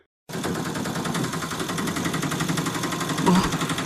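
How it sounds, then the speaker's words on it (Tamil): An auto rickshaw engine rattles and putters rapidly and steadily close by, starting abruptly after a moment of silence and continuing for several seconds. "என்னையா ஆட்டோ சத்தம் மாதிரி இருக்கு?"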